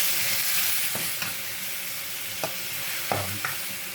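Squash and meat fry in a pan with a dense, continuous sizzle, broken by a few scraping stirs and clinks of a utensil against the metal, with no one speaking.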